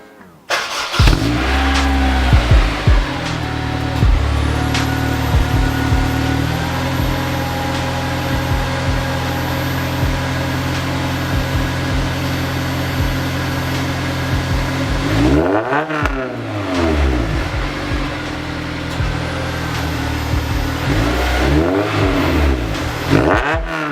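A Honda S2000 engine with a new exhaust starts and settles into a loud, steady idle, then revs up sharply twice in bold rising bursts before dropping back, close and with no talking.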